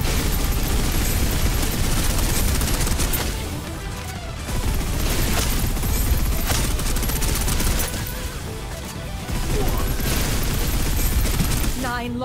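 Heavy suppressive gunfire in the Snowbreak shooter game, loud continuous automatic bursts mixed with booming impacts, dipping briefly twice before surging again over a busy, cluttered game soundtrack.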